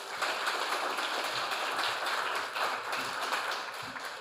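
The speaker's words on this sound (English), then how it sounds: "please give them also a loud round of applause" Steady, dense applause from an audience at an Emancipation King and Queen competition, filling the whole stretch at an even level with no pauses and no voices on top.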